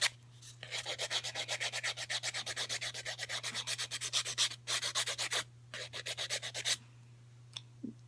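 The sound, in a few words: nail file filing fingernails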